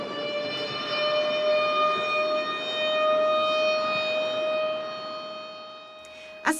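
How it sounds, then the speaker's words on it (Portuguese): A Holocaust memorial siren sounds as it does in Israel, one loud steady wail that holds for several seconds and then eases a little, ending with a short knock. "A sirene do memorial foi tocada igual em Israel"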